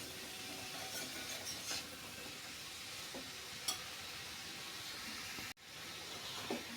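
Sweet potato slices for halwa stirred in a pan over low heat, a quiet steady sizzle and hiss with occasional soft scraping of the spoon.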